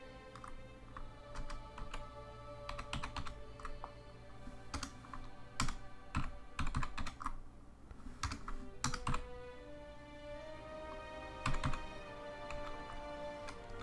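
Rapid, uneven clatter of typing on a wireless computer keyboard, close and fairly quiet, with bursts of keystrokes and brief pauses.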